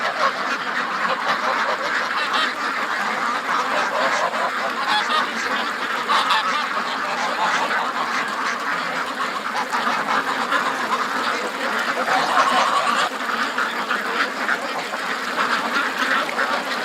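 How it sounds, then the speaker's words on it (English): Ducks quack continuously at a muddy swamp, a dense, steady chorus of overlapping calls that stays loud and close throughout with no talking. "Ducks."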